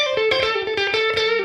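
An electric guitar through a UAFX Woodrow '55 amp-simulation pedal plays a sustained note with a distorted amp tone, repeated picked attacks blooming into a short roomy reverb.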